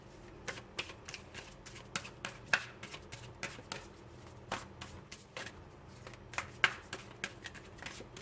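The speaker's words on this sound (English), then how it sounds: "Can we get a card from the top and from the bottom for Libra?" Tarot cards shuffled and drawn from the deck during a Libra reading, soft riffling and light tapping flicks in a quiet room, close and faint.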